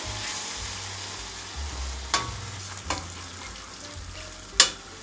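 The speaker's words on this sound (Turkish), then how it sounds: "Unla da kavuracağım." Three ladles of flour roast and sizzle in a pan for onion soup, a steady frying hiss with a low hum beneath and a few sharp scrapes of stirring.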